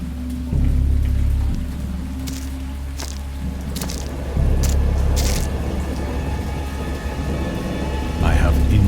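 A thunderstorm with steady rain and deep, repeated thunder rumbles that swell and fade, used as a background effect beneath a narrated horror audiobook.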